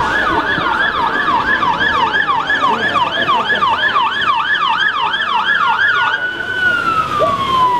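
Emergency vehicles arrive at a staged road crash scene, a loud wailing siren cycling rapidly up and down, then shifting to a long falling tone as it stops, over road noise.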